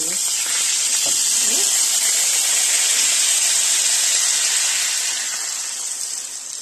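Broth poured into a hot pan of fried chicken breasts gives a loud, steady sizzle and hiss that fills the scene close up and fades slightly toward the end, with no talk over it.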